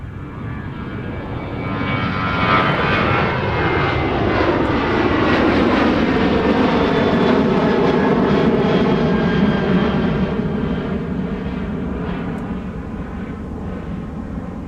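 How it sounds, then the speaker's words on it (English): A Bombardier Challenger 300 business jet departs Minneapolis–St. Paul Airport, its engine roar swelling loud and steady, with a slowly shifting whine as it climbs away and then fading slightly. "A Bombardier Challenger 300"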